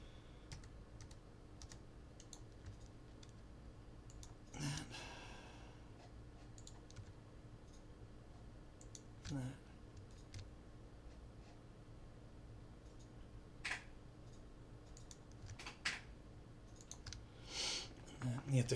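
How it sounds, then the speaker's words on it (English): Typing on a computer keyboard elsewhere in the room, faint scattered clicks with a few louder bursts, heard under low background hum. "when you hear that typing, that's somebody making a game"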